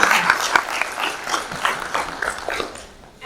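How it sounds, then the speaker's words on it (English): Conference audience in a hall applauding, a dense, steady wash of clapping that holds for a few seconds before fading out. "Give yourselves a round of applause"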